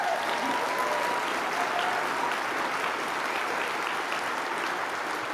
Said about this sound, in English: I see some small business people standing up to applaud that one.